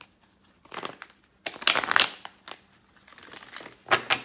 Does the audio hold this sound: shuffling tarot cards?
yes